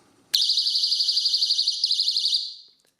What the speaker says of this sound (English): we get a super loud alarm.